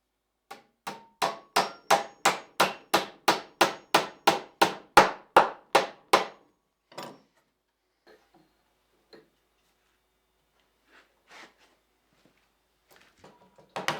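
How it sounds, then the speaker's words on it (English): Nails are hammered into log house door jamb trim at an overlapping joint, about sixteen sharp, evenly spaced close blows in a fast steady rhythm, followed by a few scattered light knocks and taps. "I've got an overlapping joint I can put some nails in."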